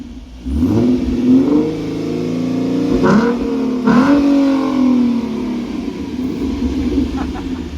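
An Alpha 9 Nissan GT-R with its catalytic converters still fitted accelerates close by, its engine note climbing and dropping through several rising sweeps before settling into a steady rumble.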